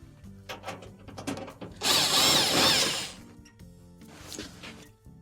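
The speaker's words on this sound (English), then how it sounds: "Remove the 2 Phillips screws." A power screwdriver backs out Phillips machine screws from the front panel of an LG dryer, a short loud whirring burst with ratcheting and clicking handling noises before and after, no talk.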